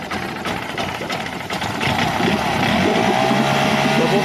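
An outboard boat engine with a CDI ignition module under repair runs steadily, a continuous mid-pitched mechanical drone that grows slightly louder and smoother toward the end, with no talk over it.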